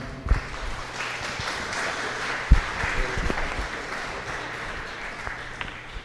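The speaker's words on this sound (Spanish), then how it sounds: "Así que lo recibimos con fuerte aplauso." Church congregation applauding to welcome a visiting pastor, a moderate, fairly even spread of clapping in a reverberant hall with a few sharp knocks and thumps.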